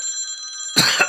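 A telephone rings with a steady electronic tone for most of the second, then a burst of louder broadband noise cuts in at the end.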